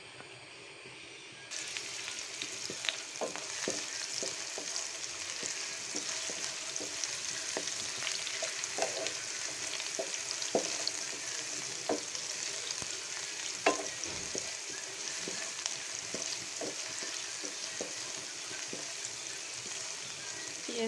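Onions and green chilies hit hot oil in a pan and fry in a steady, close sizzle, with light crackles and occasional stirring scrapes continuing unbroken throughout.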